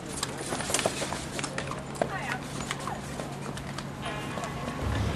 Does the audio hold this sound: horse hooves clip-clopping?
yes